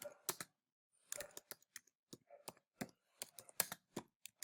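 Clicky computer keyboard typing, close and fairly quiet, in short irregular bursts of keystrokes with brief pauses and no voices.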